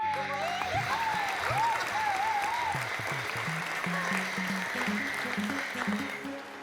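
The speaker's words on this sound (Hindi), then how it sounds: "तालियां बजा दो।" Studio audience applause at a comedy show in a TV sitcom episode, a steady clapping wash heard under background music with a sliding melodic tone early on, moderately quiet overall.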